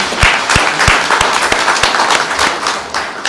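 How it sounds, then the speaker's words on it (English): An audience applauds entrepreneurs at a social business design lab event, a brief burst of dense, lively clapping from a nearby crowd, steady throughout with a few sharper individual claps. "Let's give a big applause for the entrepreneurs here."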